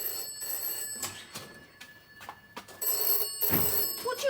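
An old-fashioned telephone bell rings indoors in a home, clear bursts of ringing broken by short gaps, with a louder ring near the end and no voices.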